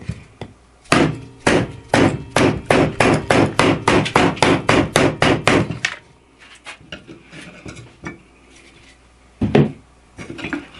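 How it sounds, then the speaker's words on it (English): A CPM S60V steel knife blade chops into a wooden 2x4 about twenty times in a fast, steady rhythm, sharp loud thwacks, followed by a few scattered knocks after a pause. "chopping this 2x4 here"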